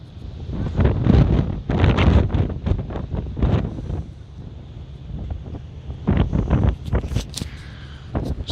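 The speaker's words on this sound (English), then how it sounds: "it's extremely windy on the other side of the boat" Strong gusts batter the microphone on the deck of a ferry near Tórshavn, producing a loud, rumbling roar that surges and eases in waves. No voice is heard.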